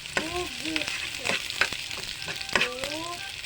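Onions frying in a pan give a steady, close sizzle, with scraping clicks and bumps from stirring running through it.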